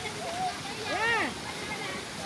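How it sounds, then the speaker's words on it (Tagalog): A waterfall rushes as a steady broadband roar, with people's voices calling and talking over it close by. "Ito po yung falls namin."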